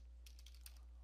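Quick keystrokes on a computer keyboard during a Windows 10 command-line repair, a short run of soft, close clicks with a steady low hum underneath.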